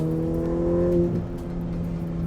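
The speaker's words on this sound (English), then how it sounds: "this car, when it gets spooled up, that turbo, good God, it's fast." A Ferrari F8 Tributo's turbocharged V8 drones steadily with a strong low hum that rises and then eases, heard up close from inside the car.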